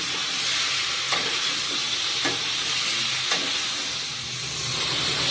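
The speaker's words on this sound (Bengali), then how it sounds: "এরপর ভালো করে মশলাটাকে কষিয়ে নিতে হবে।" Salt, turmeric and ground cumin sauté in hot oil in a pan, making a dense, close hiss and sizzle broken by short scraping strokes roughly every second as the mixture is stirred. No voices.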